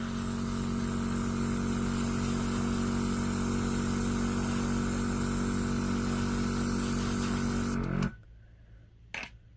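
An iGel Beauty nail airbrush sprays cream nail paint through a stencil. A steady close hiss rides over a motor drone, then cuts off abruptly near the end, followed by a couple of faint clicks.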